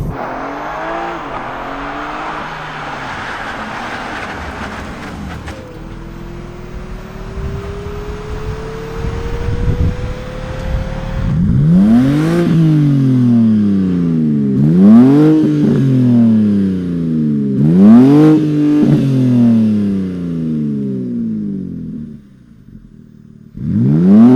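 A 510 hp BMW M3 drives over a bumpy road with potholes and manhole covers. Low cabin rumble gives way to loud engine revs that climb again and again through the gears, each rising sweep cut off by a shift.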